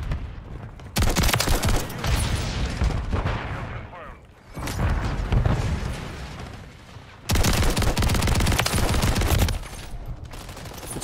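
Automatic gunfire in a video game rattles in long, loud, dense bursts, breaking off briefly twice before resuming at full intensity.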